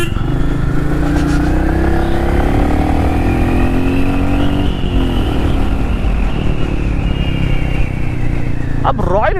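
A Royal Enfield Meteor 350 cruiser motorcycle pulls hard on a city road, its engine note rising steadily through the gears under loud wind and road noise, with a brief honk near the end.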